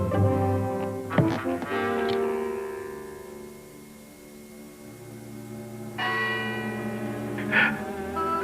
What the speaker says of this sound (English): Scrooge awoke to the chimes of a neighboring clock.